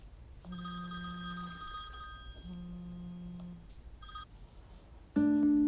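A telephone rings in two long electronic trills with a pause between, followed by a louder, different ringtone starting abruptly at the end.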